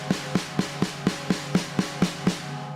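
Drum paradiddle sticking played on a drum, an even run of about ten strokes at a steady moderate pace with slightly uneven accents, close and alone with some room ring.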